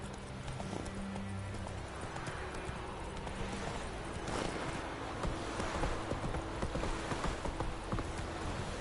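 Roach, Geralt's horse in The Witcher 3 on PS4, clip-clops along in a steady hoof rhythm that sounds close and continuous, with an occasional whinny and faint game ambience underneath.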